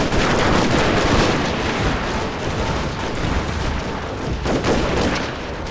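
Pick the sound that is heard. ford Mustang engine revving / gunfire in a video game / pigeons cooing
gunfire in a video game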